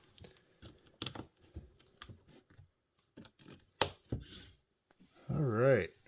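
LEGO 1x2 plates pressed together by hand, a run of small sharp clicks and snaps scattered irregularly up close, ending with a louder burst of rustling handling.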